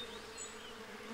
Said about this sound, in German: hier oben hängt ein riesiges Wespennest. Und die sind ganz schön angriffslustig.